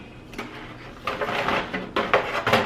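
Huge turkey wings are turned over in a big roasting pan for homemade stock, producing several close knocks, scrapes and metallic clunks in irregular bursts.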